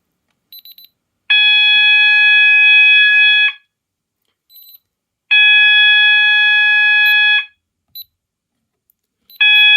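Loud electronic fire alarm tone sounding in long steady bursts of about two seconds, separated by short pauses with faint chirps between them.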